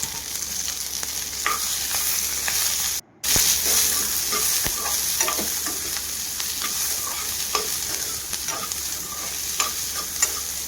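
Chopped capsicum and two large onions fry in oil in a pan, with a steady close sizzle and repeated scrapes of stirring, plus a brief cut of silence near the start.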